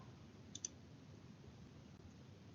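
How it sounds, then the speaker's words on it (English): Two quick, faint computer mouse clicks close together while sending a message on a swap website, with nothing else over a quiet background. "Okay, I'm going to click on send."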